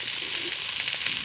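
Vegetables fry in hot oil for jhol tarkari, a steady close sizzle with bright hissing crackle that holds evenly throughout and has no talk over it.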